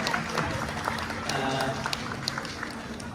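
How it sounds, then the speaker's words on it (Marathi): An audience at a Maharashtra Mandal Gudi Padwa cultural program in the USA applauds the event hosts, scattered claps over a murmuring crowd with people talking throughout. "एकदा जोरदार टाळ्या विशाल गुजर आणि वर्षा देशने यांच्यासाठी"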